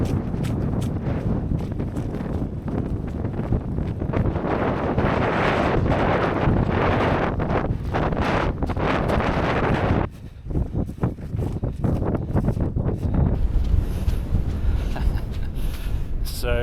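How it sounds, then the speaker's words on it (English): Strong wind buffets the microphone on open Lake District fells, roaring in heavy gusts with a brief lull around ten seconds before surging again. "it's quite windy at the moment"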